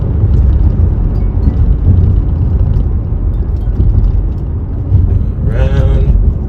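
Audi S6 with a V10 engine accelerating hard on the road, a loud, steady low rumble throughout with someone talking over it.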